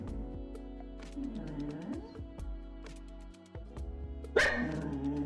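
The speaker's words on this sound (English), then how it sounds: "I swear to God, I love this dog" Lily the dog barking in short repeated bursts indoors, moderately close over a steady hum, with a louder sharp bark near the end.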